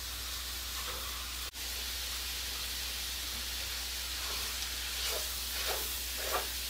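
Sausage browns in a big pan with a steady, even sizzle and hiss, joined toward the end by a few faint scrapes or stirs, and no talking.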